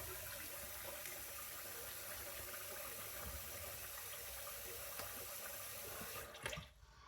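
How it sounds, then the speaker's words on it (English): A tap runs steadily into a sink as cold water is used to rinse the face after a shave, close and constant, then cuts off near the end with a few splashes. "then I take cold water and rinse my face again"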